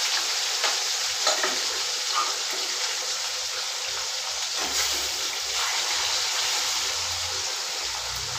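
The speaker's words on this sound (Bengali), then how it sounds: "মাছ ভাজা বসিয়ে দিলাম, মাছগুলো ভাজা হতে থাক।" Fish pieces fry in hot oil in a pan with a loud, steady, crackling sizzle that continues unbroken throughout, broken only by occasional soft utensil scrapes.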